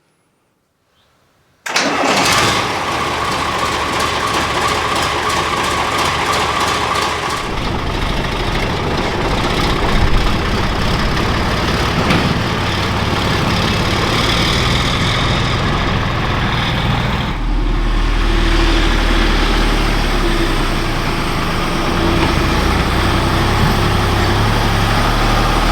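A Magirus Deutz 170D11 truck's diesel engine cranks and catches after a brief silence, then settles into a loud, steady idle that shifts in tone partway through and carries on alone.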